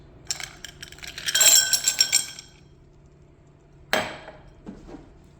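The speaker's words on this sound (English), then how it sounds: "add ice" Ice cubes dropped into a glass, a loud clattering cluster of clinks and knocks over about a second, then a single sharp clink a moment later, close and without talk.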